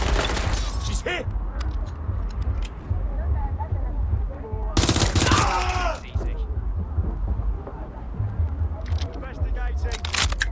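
Gunfire during a police pursuit in Watch Dogs Legion, with sharp shots and a dense burst in the middle, heard over a steady game ambience and under spoken radio chatter.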